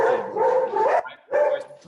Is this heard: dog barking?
yes